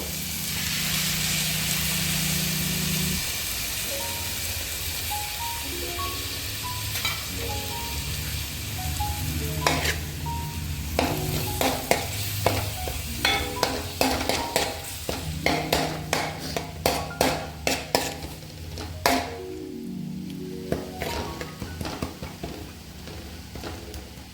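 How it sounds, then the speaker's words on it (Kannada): Lemon chicken frying in a pan, a steady hiss at first that later breaks into rapid, crackling pops and spits as the oil heats up, with no talking. "ಚೆನ್ನಾಗಿ ಫ್ರೈ ಆಗ್ತಾಯಿದೆ"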